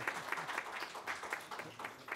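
A small group claps steadily, quiet and somewhat distant, the applause continuing evenly throughout, at a forum on social security in Mexico.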